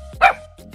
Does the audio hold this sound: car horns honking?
no